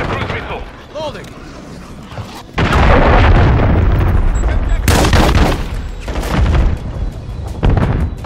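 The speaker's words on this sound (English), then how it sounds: "Hostiles launched a cruise missile." A cruise missile explodes during a Domination match on the Favela map in Call of Duty MW3, with heavy booms and blasts amid rifle fire, loud and close, under radio-style voice callouts.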